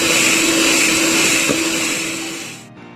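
An electric mixer whirs steadily at high speed, beating cake batter made with egg, flour and baking powder for an orange cake, a loud continuous drone that cuts off abruptly near the end.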